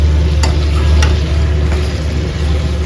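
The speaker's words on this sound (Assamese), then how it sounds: "এতিয়া আকৌ চববোৰ ভালকৈ আপোনাৰ মিক্স কৰিম, চব মছলাবোৰ যাতে ভালদৰে লাগি যায়।" Chicken with spices stirred in a frying pan, a steady sizzle with a couple of sharp spoon scrapes near the start.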